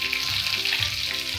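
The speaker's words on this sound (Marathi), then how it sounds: "आपण तेलामध्ये जिरं, मोहरी टाकूया। आता आपण मिरची टाकूया," Chili frying in hot oil with cumin and mustard seeds, a loud, steady close sizzle with crackling.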